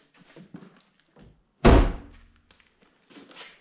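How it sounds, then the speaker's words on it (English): A single solid thunk as the door of a Chevrolet Camaro being rebuilt after a crash swings shut, close and loud, with faint background shuffling before and after. "Door closes."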